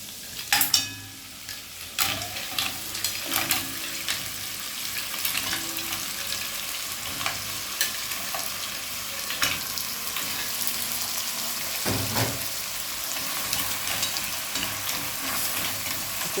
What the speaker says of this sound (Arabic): هو حطيت الحله فيها شويه زيت وفيها تومه هتتحمر، وهنزل عليها ببلح البحر